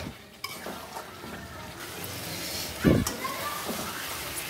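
Spiced meat for biryani cooks in a pan with a soft steady sizzle, stirred with a scrape and a sharp clatter of utensil on metal. Someone talks over it.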